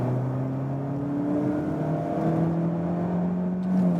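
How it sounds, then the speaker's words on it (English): A Mazda CX-30 SUV with a Skyactiv petrol engine accelerating in second gear, a steady rising engine drone heard from inside the cabin, with no talking over it. "Let's put it in the second gear"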